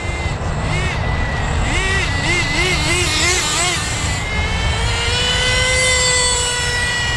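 A gas-powered Associated RC10GT RC truck's small engine buzzes at high revs, pitch rising and wavering as it accelerates and varies, fairly loud and continuous with a voice talking over it.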